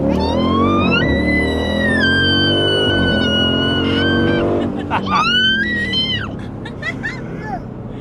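A 2025 Dodge Durango Hellcat accelerating hard, its supercharged engine roaring loudly with rising whine through upshifts, heard from inside the cabin with excited voices over it.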